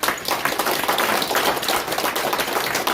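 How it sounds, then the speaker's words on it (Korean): A packed seminar audience claps steadily for four panelists at a 2023 South Korean modern-history round-table discussion, a dense, even wash of hand claps lasting the whole stretch without talk. "우리 네 분에게 큰 박수 보내드리고"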